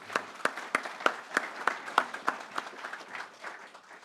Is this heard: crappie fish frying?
no